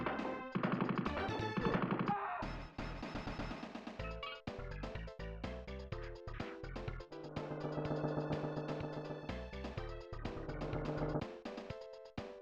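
Gunfire from the Shadowrun SNES game, a dense run of sharp retro-style shots and crashes over busy synthesized music, loud and continuous throughout with no talking.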